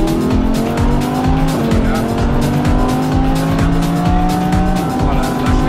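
A car accelerates hard on an aerodrome circuit during a driving course, its loud, close engine droning continuously with the pitch shifting as the revs change.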